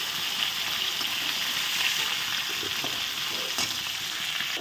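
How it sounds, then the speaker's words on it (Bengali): Chillies fry in hot oil for a fish dish with a loud, constant, dense sizzle, close and uninterrupted, with no one speaking. "এই যে লঙ্কা দিয়ে তেল ভাজা করে দেবো"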